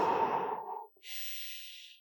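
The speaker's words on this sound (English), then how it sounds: "Breathing out, breathing in." One slow breath out and then one breath in during a qigong chest exercise, close and soft with a brief pause between them, and no talking.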